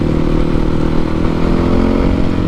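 A Yamaha WR450F dirt bike runs through a modified exhaust with a cut and ground baffle, giving a loud, steady, close engine drone with a deep, rumbling tone and no speech.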